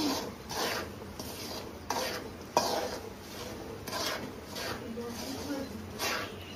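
Spices being stirred and mixed into oil in a pan for poha chivda, repeated soft scraping and rubbing strokes of a spoon in an uneven rhythm, with someone talking throughout.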